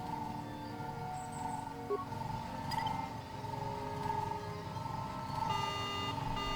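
A speeder alarm in Star Wars: Knights of the Old Republic wails continuously, a steady electronic tone with faint repeating beeps over a low ambient hum.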